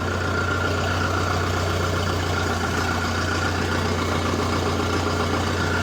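A Chinese Scout TE tractor engine idles steadily after starting, a loud, close, even diesel rumble with a constant low hum and no talking over it.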